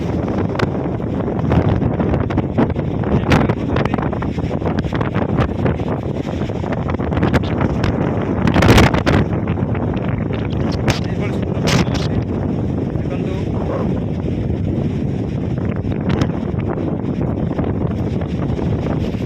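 Sea wind blowing hard across the microphone in the evening, a steady roaring buffet with louder gusts, under faint background sounds and no clear talk.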